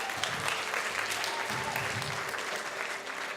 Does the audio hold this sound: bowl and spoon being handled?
no